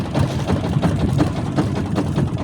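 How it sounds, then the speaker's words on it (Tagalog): A boat engine idles nearby with a steady, low, rhythmic chugging that stays constant throughout. "At yan makina"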